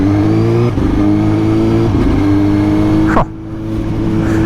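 A Suzuki GSX-S 750 motorcycle with a Translogic quickshifter accelerates hard through the gears, its loud engine note rising and dropping sharply at each quick upshift. The sound is close and intense, with wind noise and a brief mutter near the end.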